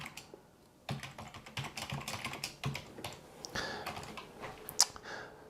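Steady, fast typing on a computer keyboard, a dense run of close, crisp key clicks lasting several seconds against a faint background hum, with no voices.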